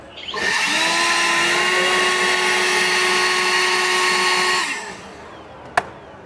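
A Honda battery-operated leaf blower for clearing a yard spins up to a steady, loud whine with a constant pitch. It holds for about four seconds and then winds down, followed by a single sharp click.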